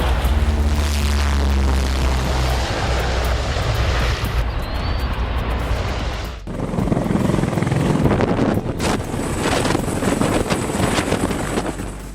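A Marine Corps CH-53 heavy-lift helicopter doing external lifts over a dirt strip in Arizona, its rotor drone loud and steady with a pulsing throb and gusting wind buffeting the microphone throughout.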